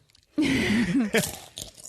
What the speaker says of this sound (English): Dulcet sound of us chewing.